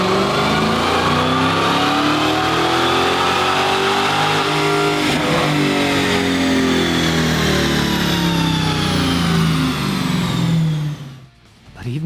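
Supercharged Dodge Hellcat with a Stage-1 package and factory intake roaring loud and steady on a chassis dyno, revs sweeping up then easing off near the end.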